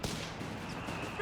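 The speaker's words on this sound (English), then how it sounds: "We got the Vickers all in the scene here, ready to halt the Panzer Grenadiers. There you go, suppressing them." Vickers machine gun in Company of Heroes 3 firing to suppress Panzer Grenadiers, a steady dense rattle of battle gunfire at moderate loudness with a brief louder burst at the start, no talk.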